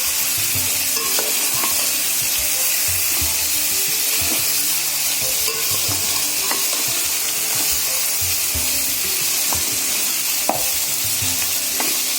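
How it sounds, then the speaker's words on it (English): Vegetables for veg pulao sizzle steadily in a hot pan, a continuous close frying hiss with occasional soft stirring clinks and scrapes, no voices. "my style is to add the veggies first and later on tomatoes. Let's give it a quick fry."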